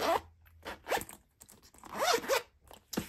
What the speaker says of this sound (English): that is a smooth zipper